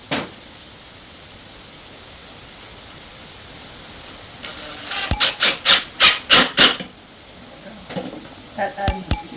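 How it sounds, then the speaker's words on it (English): A wooden roost bar for backyard chickens is sanded down with a sander. A close, loud run of short rasping strokes comes midway over a steady hiss, followed by a few scattered scraping bursts near the end. "I just took a sander to it and I sanded it down"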